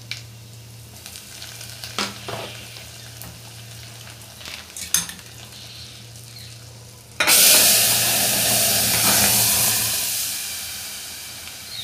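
Cumin, mustard seeds and curry leaves hit hot oil for a sambar tempering, bursting into a loud sudden sizzle that hisses on and slowly fades, after quieter kitchen clatter.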